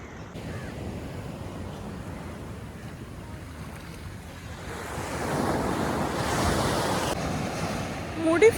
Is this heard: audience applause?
no